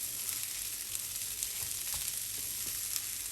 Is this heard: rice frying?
yes